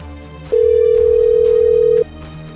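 A telephone rings on the line, a single steady electronic tone lasting about a second and a half, loud and close, set between quiet stretches of room background.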